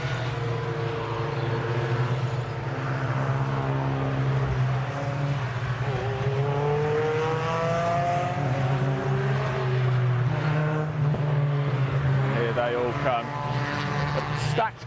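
MG race cars rolling onto the grid at Cadwell Park for an MG Car Club race, a steady drone of several engines with rising and falling revs throughout, under an ongoing voice.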